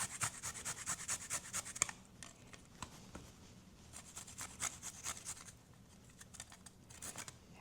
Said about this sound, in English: Fresh ginger, we're just gonna grate that right into our butter mix.